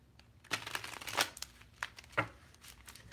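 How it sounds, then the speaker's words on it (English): Tarot cards being shuffled by hand in a few quick riffling bursts, close and fairly quiet, with pauses between. "And give it one more shuffle this way."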